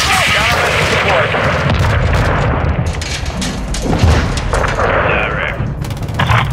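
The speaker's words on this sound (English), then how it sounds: "We got an incoming missile!" In the Call of Duty: Modern Warfare II campaign, an incoming missile strike hits amid a loud, dense battle. Heavy booms rumble beneath continuous gunfire and artillery, and a voice speaks over the din.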